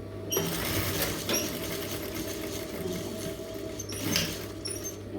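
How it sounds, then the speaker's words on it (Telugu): A sewing machine stitches along the edge of a blouse, a steady close mechanical hum with fast rhythmic needle clatter running throughout, a few brief higher clicks over it. "ఇలా ఎడ్జ్కి ఒక స్టిచ్ వేసుకుంటే నీట్గా ఉంటుంది"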